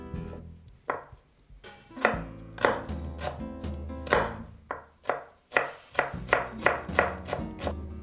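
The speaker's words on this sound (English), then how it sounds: "Finely mince the shallots." Knife chopping and mincing shallots on a cutting board, a rapid series of close, crisp blade strikes coming in bursts with short pauses, no talking.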